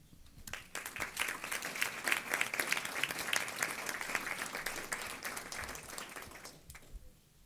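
An audience at a Fort Bend ISD school board meeting gives a long round of applause for Austin High School students. Steady, dense clapping lasts about six seconds, then fades out.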